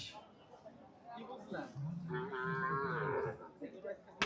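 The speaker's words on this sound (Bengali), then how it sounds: "আজকে দেখলাম তিনটা এলবিনো মহিষ আছে" Albino buffalo at the Hazratpur Paragram cattle market give a single drawn-out bellowing call, close and clear, with a voice nearby.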